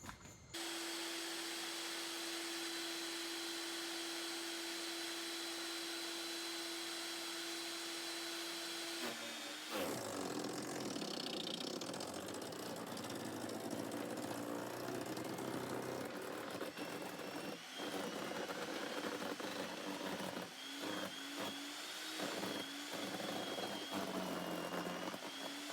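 A Harbor Freight Portland chipper shredder runs with a loud, constant engine drone, then its tone shifts and roughens partway through as material is fed into the hopper and chewed, with uneven bursts to the end.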